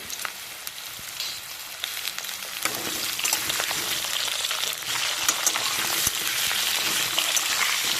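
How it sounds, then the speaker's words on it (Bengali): Potatoes frying in oil over a high gas flame, a dense, loud crackling sizzle that swells after the first few seconds and then holds steady with scattered pops. "এই সময় গ্যাসটা আমি হাই ফ্লেমে দিয়ে আলুগুলো ভেজে তুলে নেব"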